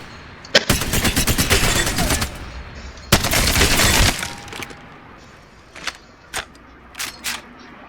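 Video game automatic weapon empties a full magazine in two long rapid bursts, loud and close, followed by separate clicks and clacks of a reload.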